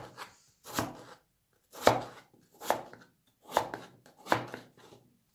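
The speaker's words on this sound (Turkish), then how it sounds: "Bir adet orta boy patatesimi doğruyorum." Six slow, evenly spaced knife chops through a medium potato on a cutting board, each a crisp thud, with brief silences between them.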